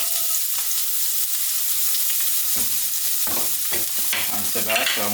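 Sliced onion frying in a pan with canned Spam, a loud, steady hissing sizzle throughout with a few stirring clatters toward the end, close and without talking.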